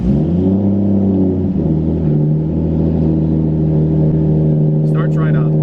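A Toyota Supra engine with a new fuel system starts and settles into a steady, loud idle, its rich low rumble filling the whole clip, with a brief sharp rattle near the end.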